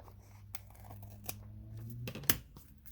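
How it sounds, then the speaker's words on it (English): Scissors trim the edges of paper on a small notepad in a few quiet, close snips spaced apart, with soft paper rustling between cuts. "just go through with your scissors and trim the edges"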